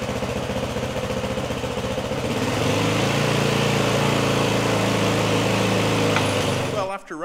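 A motorbike being prepared for a Simpson Desert crossing idles close by, a loud, steady engine drone with a rhythmic low pulse that settles into an even hum before cutting off abruptly.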